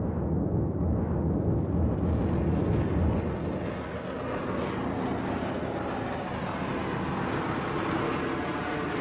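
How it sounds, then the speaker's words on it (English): A V-2 rocket engine fires at launch with a broad, continuous roaring rumble that swells and then eases slightly, sustained and heavy. "V-2 ran for several seconds before actually taking to the air. But once it cleared the launch pad, acceleration was rapid."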